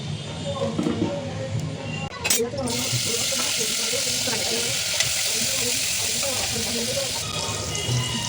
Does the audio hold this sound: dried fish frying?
yes